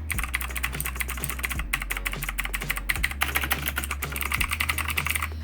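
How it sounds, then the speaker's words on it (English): AUKEY mechanical gaming keyboard with blue switches typed on in rapid, loud clicky keystrokes, close up and continuous with no talk. "This particular keyboard, very clicky, very loud"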